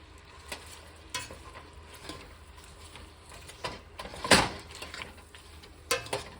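Stuffing ingredients browning in a hot pan give off a quiet, steady sizzle, broken by occasional scrapes and stirring knocks of a utensil, one louder scrape near the middle.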